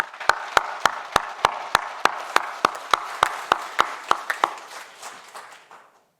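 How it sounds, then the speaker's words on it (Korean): A Korean church congregation claps together in unison with a brisk, regular beat of about a dozen crisp strikes, then the clapping thins and fades away into silence. "우리 다시 한번 하나님께 영광의 박수를 올려드립니다."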